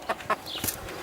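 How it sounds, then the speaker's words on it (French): Small Padua hens clucking close by, with a few short, sharp clucks spaced unevenly over quiet background noise. "Ce sont des petites poules de Padoue"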